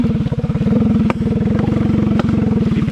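A Mini Max motorcycle climbing a muddy trail in the rain: a close, rapid single-cylinder putter chugging under load, steady and loud, with a few clunks and rattles from the machine.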